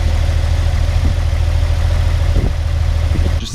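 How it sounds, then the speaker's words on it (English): A Porsche 993's air-cooled engine with stock exhaust idles up close, a steady, rumbling constant low drone with slight pulsing and no voices. "the sound this car makes is so raw and pure"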